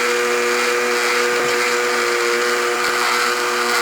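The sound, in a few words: blender blending chile relleno seasoning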